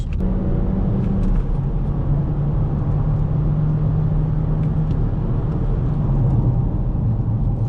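Inside an Opel Insignia 1.6 turbo 180 hp braking hard at high speed, a loud, steady low road and engine rumble fills the cabin with a faint tonal drone that dips slightly toward the end.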